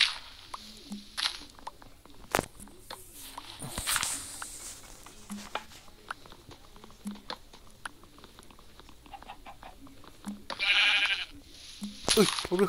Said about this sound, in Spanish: Uy, ovejas, ovejas, vengan para acá